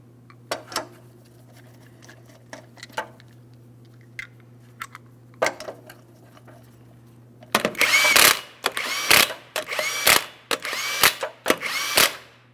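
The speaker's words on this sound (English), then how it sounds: "go ahead and start on all 5 of your 21mm lug nuts" The 21mm lug nuts on a 2003-2008 Toyota Matrix wheel are tightened: scattered clicks and taps at first, then a run of short, loud power-tool bursts in quick succession, close up.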